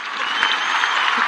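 A short, loud burst of crowd clapping at a spiritual gathering, with many hands producing a dense, continuous patter.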